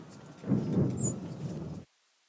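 In Assassin's Creed III, a thunderstorm at sea gives a short, deep roll of thunder over rain hiss, swelling then fading before cutting off abruptly into silence.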